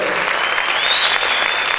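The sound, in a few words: congregation applauding in church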